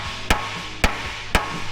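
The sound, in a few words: hammer tapping on a truck frame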